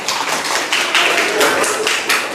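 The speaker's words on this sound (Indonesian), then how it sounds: "Berikan aplaus untuk kelompok 3." A classroom audience applauds a student group after their presentation during a teacher-training teaching practice session; dense, steady hand clapping with soft rhythmic swells, fairly loud and close, with no speech over it.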